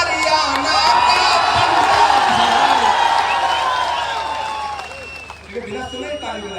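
A large crowd at a political rally in Haryana roars with sustained cheering, whoops and clapping, loud and dense throughout before thinning slightly near the end.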